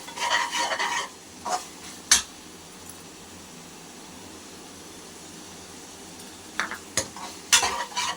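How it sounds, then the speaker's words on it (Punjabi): Kasuri methi roasts in a tadka for dal, with a quiet sizzle broken by scattered bursts of close spoon scraping and tapping against the pan. "ਕਸਤੂਰੀ ਮੇਥੀ ਨੂੰ ਅਸੀਂ ਚੰਗੀ ਤਰ੍ਹਾਂ ਭੁੰਨਾਂਗੇ"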